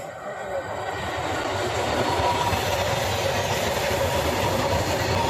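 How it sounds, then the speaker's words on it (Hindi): Trains passing on railway tracks seen on both sides, a steady loud rumble with rhythmic clickety-clack of wheels and faint squeal, running continuously close by. "भाई चारों तरफ ट्रेन ही ट्रेन दिखाई दे रही है, एक इस तरफ है, एक इस तरफ है।"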